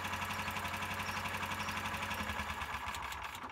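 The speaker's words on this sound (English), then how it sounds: "And the engine stalled." A Predator 420 cc single-cylinder engine fitted with Speeduino electronic fuel injection runs with a steady, close, rhythmic chug, then falters and dies out near the end as it stalls.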